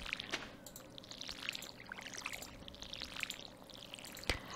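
Watering crops with a watering can in Stardew Valley, heard as soft repeated pouring and trickling splashes at a low level, with a few brief chimes and clicks over a quiet game backdrop.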